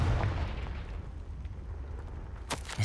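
A Confringo fire spell goes off in the Hogwarts Legacy video game: a low, rumbling blast with rolling booms and a couple of sharp bursts near the end.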